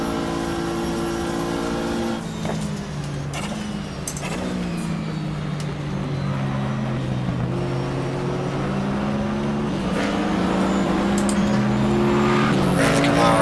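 Porsche race car engines at Daytona in the GTR2 racing game drone steadily in a 1995 24-hour race, with shifting pitch as the car climbs the banking and other cars' engines join in, loud and continuous with a voice talking over them.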